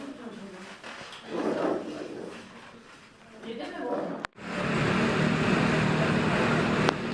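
Riding a motorbike loaded with about 100 kilos of food and clothing being handed out: muffled engine and traffic rumble with voices, then a sharp knock and a louder, steady rush of wind and motor.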